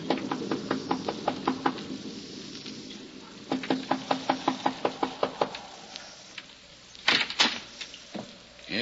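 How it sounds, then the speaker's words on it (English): Knocking at a farmhouse door as a radio drama sound effect: two bursts of about a dozen evenly spaced, close raps, then a few louder irregular thumps and rattles near the end, with no voices. "He knocks at the door."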